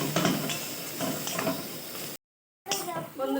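A spoon scrapes and clinks through spiced mashed potato filling for aloo paratha in a pan. The stirring strokes come in a light rhythm with soft clatter, break off for a moment and resume, under a voice.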